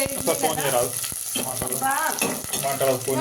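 Garlic frying in oil for a tempering sizzles continuously beneath a woman's close, steady talk, with a few sharp ticks of a spoon against the pan.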